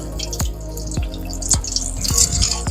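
Red snapper frying outdoors on a Weber kettle grill, with sharp irregular pops and splatters of hot oil over a low steady sizzle, close and fairly loud, no talking.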